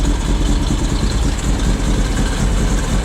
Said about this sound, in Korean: 자, 시동은 잘 걸렸고요. 이제 꺼지는지 안 꺼지는지만 보겠습니다.